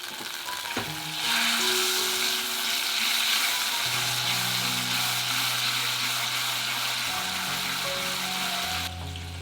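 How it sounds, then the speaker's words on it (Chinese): Sauce sizzles and bubbles as it is stir-fried in a small pot, a loud steady frying hiss lasting throughout with no voices. "翻炒至起泡泡就好了。"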